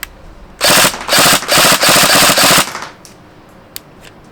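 A Tokyo Marui NGRS MP5A5 airsoft gun fires loud, close full-auto bursts, about four rapid strings back to back over two seconds, then falls quiet except for a faint click.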